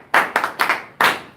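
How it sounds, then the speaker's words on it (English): A few scattered hand claps from a small audience, four separate sharp bursts over a second and a half, close and loud with brief gaps between them rather than a sustained ovation. "So give Sister Mayan a round of applause."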